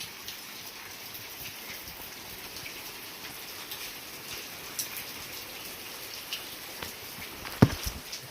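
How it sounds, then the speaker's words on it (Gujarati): Steady village rain patters on surfaces in a soft, even wash, with scattered drip ticks and one sharp tap near the end. The rain is fairly quiet and heard alone. "હવે વરસાદ પડે છે જરમાં"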